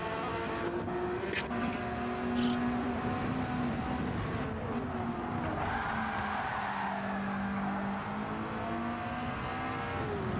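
Race cars in the Gran Turismo 7 video game, steady engine drone with sustained tones throughout and a brief tyre skid mixed into the continuous game audio, no talk.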